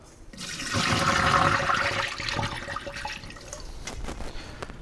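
Rinse water gushes and splashes out of a rice cooker pot in a steady pour for a few seconds, then tapers into lighter trickling and drips.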